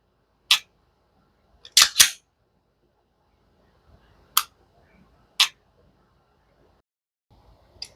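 Sig Sauer P365X pistol trigger resetting, a series of sharp, close, isolated clicks, some in quick pairs, with near silence between them.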